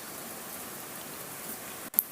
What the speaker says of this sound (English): It's raining sideways,